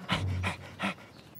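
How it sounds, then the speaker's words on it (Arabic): A cartoon dog pants close up in three quick, breathy bursts that come in a rapid, even rhythm. "كلب جيد."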